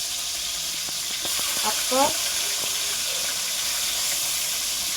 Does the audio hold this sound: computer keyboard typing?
no